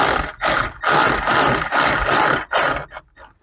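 Ratchet tightening the rear brake caliper bolts on a Porsche 996 Turbo, several close, loud bursts of rapid clicking separated by short pauses.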